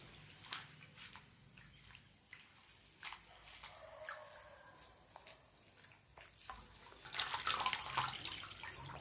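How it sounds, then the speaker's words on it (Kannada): Curry leaves are washed under running water, with the stream trickling and splashing at low level, broken by intermittent drips and squelches and a louder burst of splashing near the end. "ಈ ರೀತಿ ವಾಶ್ ಮಾಡ್ಕೊಳ್ಬೇಕು ಕರ್ಬೇವನ್ನು"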